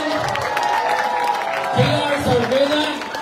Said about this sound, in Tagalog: Palakpak mga kababayan.